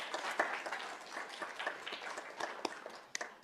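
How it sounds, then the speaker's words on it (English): Audience applause at a school district governing board meeting, a steady patter of many hands clapping in a hall, moderately loud and sustained throughout without speech. "please, a big round of applause"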